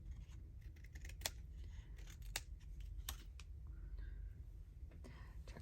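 Scissors trim paper ephemera in a quiet room, making a few faint, separate snips over a low background hum.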